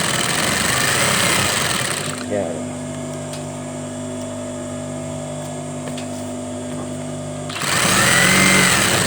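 A sewing machine stitching curtain fabric runs with a steady mechanical hum for several seconds, framed by a person talking before and after.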